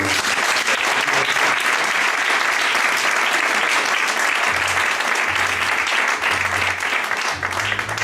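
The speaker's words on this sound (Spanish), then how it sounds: "Pues venga, un aplauso." Applause after a book presentation, dense and loud clapping from a room full of people that holds steady for several seconds.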